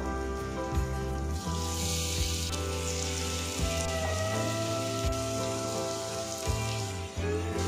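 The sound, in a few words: ridge gourd dhoka frying in mustard oil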